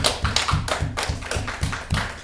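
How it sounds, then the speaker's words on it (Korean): A church congregation claps together during a Sunday service, a close, rhythmic run of about a dozen even handclaps. "우리 하나님께 영광의 박수 올리겠습니다."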